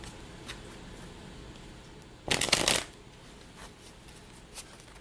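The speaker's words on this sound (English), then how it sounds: "Shuffle, shuffle." A single quick riffle of tarot cards being shuffled, a brief crisp flutter in an otherwise quiet room.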